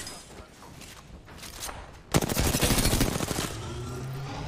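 Apex Legends gunfire: after a quieter lead-in with faint distant shots, a loud sustained burst of rapid automatic fire erupts close by and rattles on for over a second before trailing off.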